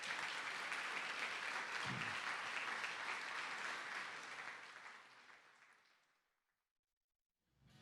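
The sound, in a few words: applause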